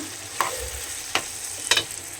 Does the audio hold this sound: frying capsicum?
yes